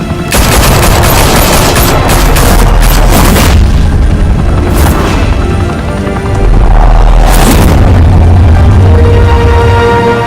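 Loud, dense gunfire from Batman: The Telltale Series: rapid automatic bursts and heavy booming impacts crowd together, with a brief lull before another surge of shooting.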